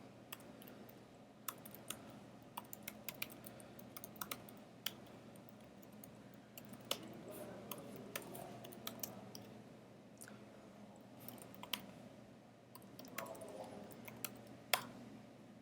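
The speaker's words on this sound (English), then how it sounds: "let me type them in for you" Web addresses being typed on a computer keyboard: scattered, irregular key clicks, faint and close, tapping along at an uneven pace over quiet room noise.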